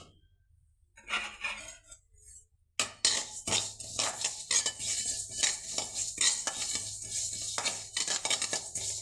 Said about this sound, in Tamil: வெள்ளை எள்ளையும் நல்லா வறுத்து எடுத்துடலாம்